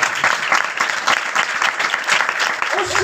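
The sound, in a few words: congregation clapping loudly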